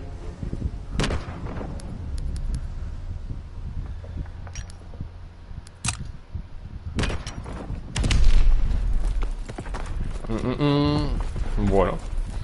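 Gunfire from the Call of Duty WWII beta game, sharp repeated shots and booming artillery-like blasts scattered through a busy battle mix, with someone talking over parts of it.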